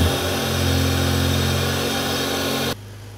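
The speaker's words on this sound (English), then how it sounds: "So we've just started our 2JZ engine" A Toyota 2JZ engine just started from dead cold, running loud and steady with a low droning hum and constant higher whine, then dropping abruptly in level near the end; no talk.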